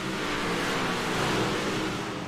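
American All Star race cars roar away together at the start at I55, a dense, loud, continuous engine rumble building as the pack accelerates.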